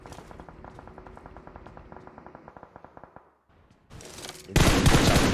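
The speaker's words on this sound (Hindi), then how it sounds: "वो सातवां फिनिश, वो गोल्डन गन चलती है" A golden gun fires in a battle royale video game, a rapid run of sharp, evenly spaced shots for about three seconds, then a short lull before a loud, dense burst of gunfire and blasts.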